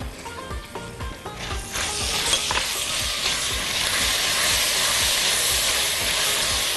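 Soup being stirred in a cooking pot as spoonfuls of sauce go in, with a steady sizzling hiss and scraping stir strokes that start as separate rhythmic scrapes and then blur into a continuous bubbling wash, close and fairly loud.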